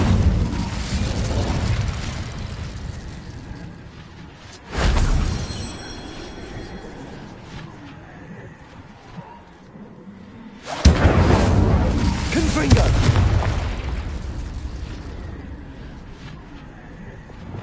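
Two loud whooshing bursts of fire from a cast Incendio spell in a Hogwarts video game flare up and roar, then fade into a rumbling background.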